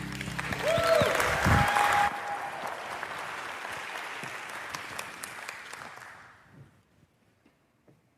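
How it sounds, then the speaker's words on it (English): Audience applause swells loudly, then gradually thins out and fades to silence over several seconds, with a few scattered claps at the end. "Without further ado, let's hear it for Brandon and Bruce"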